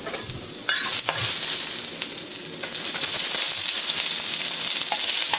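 Chopped garlic and ginger hit hot oil in a wok and sizzle loudly, while a utensil scrapes and stirs them around; the crackling frying rises after a moment and stays steady and close, with no talking.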